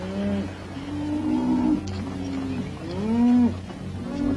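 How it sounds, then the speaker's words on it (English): A cattle herd on the move, several animals lowing in long, drawn-out calls that overlap one after another over a steady low rumble of hooves and movement. "Keep the cattle moving."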